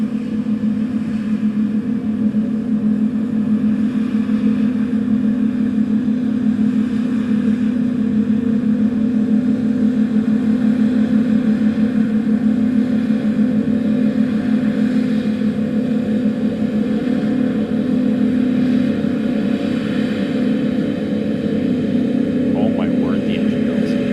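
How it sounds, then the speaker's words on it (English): An SPMT transporter carries SpaceX Super Heavy Booster 19 past on the way to Pad 2, giving a steady, loud, low mechanical drone that holds unchanged for the whole stretch while people talk over it. "we might as well listen to the SPMT"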